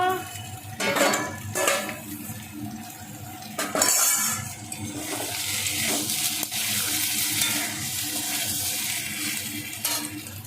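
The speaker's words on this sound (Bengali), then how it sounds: "এই যে গরম জল গরম জলও করেছি এবারে গরম জল দিয়ে" Hot water is poured into a pan of paneer frying in oil, with a few pot and utensil clanks at first and then a steady hissing sizzle.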